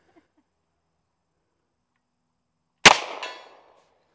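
An M1 Thompson fires a single .45 ACP round at a shooting range, a sharp loud close report followed a moment later by a faint metallic ping off a steel target, then a short decaying ring.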